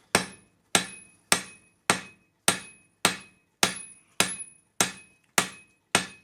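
A hammer strikes a Damascus steel billet being hand forged from a pair of scissors, ten evenly spaced ringing metallic blows about every 0.6 seconds, loud and close with short ringing decays and no talk.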